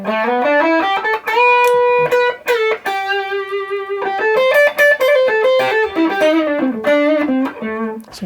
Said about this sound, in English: here's an overdrive pedal or the Tube Screamer